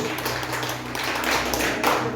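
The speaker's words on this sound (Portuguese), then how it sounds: "Dê uma salva de palmas bem forte para Jesus" A church congregation claps hard during a sermon, with sharp, closely spaced clapping over a low steady hum, growing slightly fuller toward the end.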